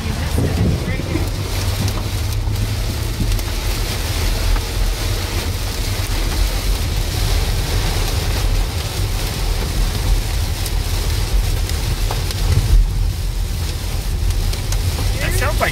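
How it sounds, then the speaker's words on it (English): Hail pelts down during a thunderstorm in a continuous, loud hiss with gusty wind, lasting throughout. "That sounds like hail. That's hail."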